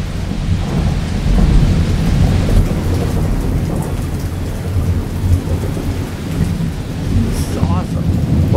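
Heavy thunderstorm under an orange sky with lightning, steady loud rain drumming on surfaces and deep rumbling thunder rolling throughout, dense and close with no pauses.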